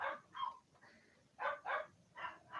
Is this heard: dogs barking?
yes